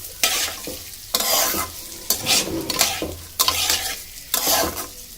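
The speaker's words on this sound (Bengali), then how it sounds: "চালটা একটু ভাজা করে নেব ভালো করে।" Rice for sweet basanti pulao frying in a kadai while a spoon stirs it, giving repeated scraping strokes over a sizzling hiss, close and steady, with no talking.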